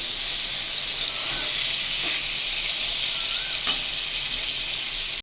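Pieces of pointed gourd (potol) sizzle in hot oil in a pan, a loud, continuous frying hiss broken by a few faint clinks of stirring.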